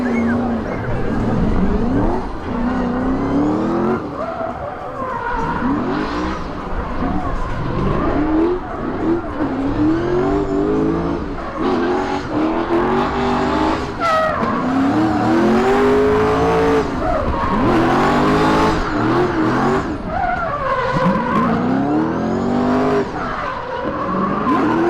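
A drift car at a Croatian drift competition qualifying round screeches its tires through long slides while the engine revs and rises in pitch again and again, loud and continuous for about 25 seconds, with faint voices in the background.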